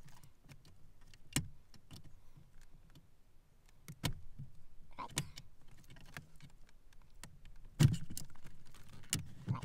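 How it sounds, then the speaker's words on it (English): Radio removal keys are pushed into the slots of an Audi Concert car stereo, giving sharp metallic clicks and taps scattered irregularly over a quiet in-car background. "you do this by taking these keys and just insert them right here"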